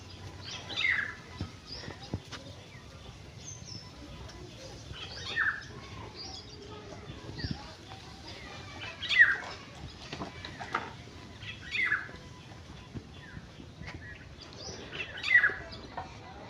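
Small yellow birds outdoors at a potter's home, giving short scattered chirps and tweets at moderate distance over a quiet background, spaced every few seconds.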